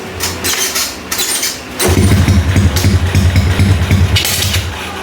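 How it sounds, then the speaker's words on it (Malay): An old restored motorcycle engine catches and settles into a steady, loud low rumble after a rougher first moment, close by and alone with no talk over it. "Mantap man, motor kita dah hidup."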